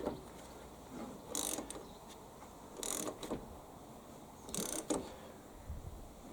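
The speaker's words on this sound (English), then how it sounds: "I'm going to get my 16mm socket and a 1/2 inch ratchet," A 1/2-inch ratchet turning a 16mm socket on a Hyundai HYM510SPE lawnmower gives three short, separate bursts of clicking, close and fairly quiet, with a soft background between them.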